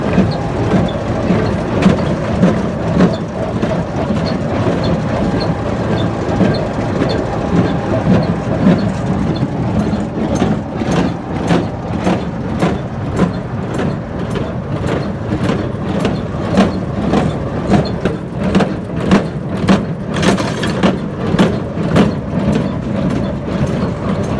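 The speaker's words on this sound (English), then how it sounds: "We're baling hay, guys." A John Deere 7410 tractor pulls a Hesston baler packing hay into a trailer, its plunger thumping in a steady, rhythmic beat over a loud, continuous engine drone.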